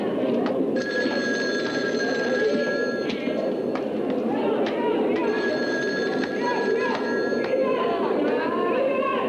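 An old telephone rings in repeated bursts with short pauses, bright and close, over a busy murmur of voices and background chatter.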